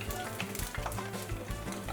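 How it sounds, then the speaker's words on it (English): Chicken wontons fry in hot oil with a steady, soft bubbling sizzle and faint crackles, heard close and continuous with no talking. "If you're frying it and it's getting brown too quickly,"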